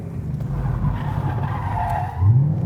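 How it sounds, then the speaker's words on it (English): A car drifting on a track as the driver works clutch, brake and steering, with a loud continuous tire squeal and skid over a droning engine, close up. "hit your clutch, pull your brake, turn. So that's going to initiate your drift."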